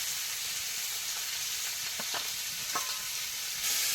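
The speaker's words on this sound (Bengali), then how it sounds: "এই তেলের মধ্যে একটু গোটা জিরে দেবো, পেঁপে আর আলুটা দেবো" Cumin seeds, papaya and potato frying in hot oil, a steady close sizzle with a few brief clattering stirs partway through.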